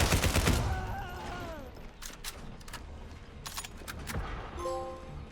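Submachine gun fire in the Sniper Elite Resistance video game: a loud rapid burst at the start, then scattered sharp shots and cracks over a dim background, with a few electronic tones near the end.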